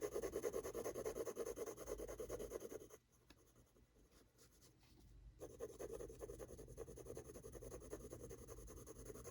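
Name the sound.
shading a drawing with a 6B pencil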